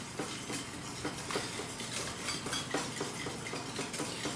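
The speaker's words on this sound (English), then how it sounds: "just crush the top, mix it all in" Lemon drizzle cake mixture stirred in a bowl, a soft, steady scraping and clinking of utensil against the bowl that repeats in a quick rhythm at low volume.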